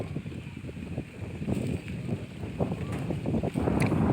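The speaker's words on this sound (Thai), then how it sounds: "ลมพัดวีวีอยู่ครับ" Wind gusting across open farmland during a red onion harvest in Sisaket, Thailand, a steady rushing bluster with rumbling buffets on the microphone throughout.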